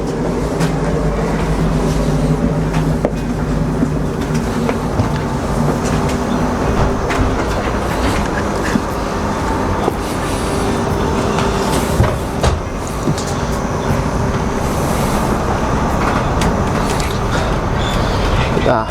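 An Oslo bus ride gives a steady rumbling, rattling interior hum throughout with occasional clunks, and voices can be heard over the vehicle noise.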